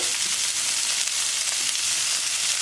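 Mixed vegetables, carrot and green beans, go into a hot frying pan and give a loud, steady, close sizzle of frying throughout, with no talking.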